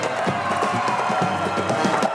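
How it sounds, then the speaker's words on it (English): Audience at a community talk breaks into applause and cheering for the speaker, a dense, even roar of clapping and voices that stays constant throughout. "Give a round of applause for Darsheel Kaur,"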